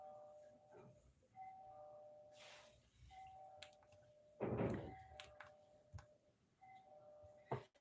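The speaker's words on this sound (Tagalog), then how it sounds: "Uy, may nagdo-doorbell." A doorbell rings indoors with sustained electronic tones that repeat several times, and a thump and a few clicks are heard between rings at fairly low level.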